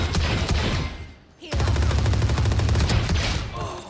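Rapid gunfire in a shooter video game: dense automatic bursts, a brief lull, then sustained loud machine-gun fire with steady repeating shots.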